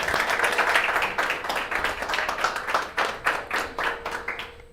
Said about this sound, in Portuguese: Obrigado, salva de palmas.